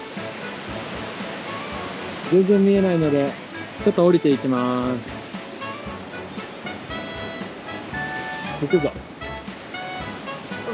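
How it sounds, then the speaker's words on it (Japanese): Steady roar of rushing water from Ōkama Falls, a waterfall in Tokushima, Japan, fills the background while a person talks over it, with footsteps and movement noises now and then. "今日本の滝100選の大釜の滝に来てます"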